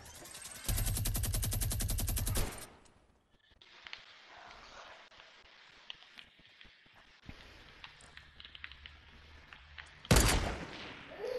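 Rapid automatic gunfire in Fortnite, a loud burst of about two seconds, then quieter footsteps and scattered shots before another sharp burst near the end.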